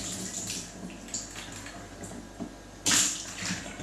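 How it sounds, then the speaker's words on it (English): Tap water runs steadily into a sink while a camera rangefinder glass is rinsed beneath it, a soft continuous splashing with a brief louder gush near the end. "I'll do it under running water"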